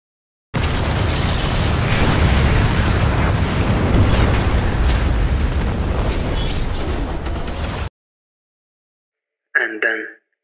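Bombs exploding in a war scene from a short film: a loud, continuous rumbling blast roar with deep low end that sustains for about seven seconds, then cuts off, followed by a brief voice.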